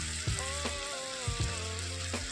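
Cumin powder hits hot oil in a pan on a medium gas flame, giving a steady close sizzle with a few louder bursts of crackle as it fries.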